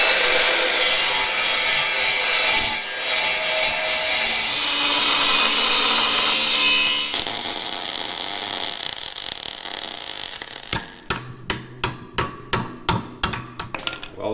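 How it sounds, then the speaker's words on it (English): Chop saw cutting through a ruined pin, a loud, harsh continuous grinding for about ten seconds, then a series of sharp, evenly spaced metallic knocks or bangs. "What do you want to cut it with? You have a chop saw?"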